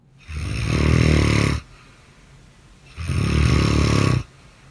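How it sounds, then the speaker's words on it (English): Two long, loud snores, each a rumbling inhale lasting over a second, separated by a quiet pause, close and deep. "that's a solid snore"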